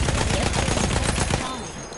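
Mounted machine guns firing in a video game, a loud rapid rattling burst that runs steadily before cutting off and fading into a quieter tail.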